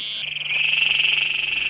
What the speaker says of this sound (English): the vocalizations of calling male toads are a representation of genetic fitness